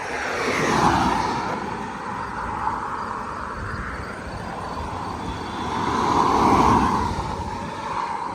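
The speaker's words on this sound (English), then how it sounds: "Traffic's pretty chill today on the John S. Mosby Highway." Road traffic on the John S. Mosby Highway, heard from a trail nearby: a steady broadband roar of passing vehicles that swells around the first second and again near six to seven seconds, with no voices.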